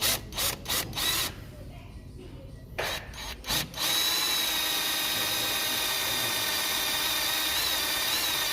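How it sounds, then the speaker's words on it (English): A power drill whirs in short stop-start bursts, then runs steadily at high pitch for several seconds, close by. "Right, it takes some very careful drilling,"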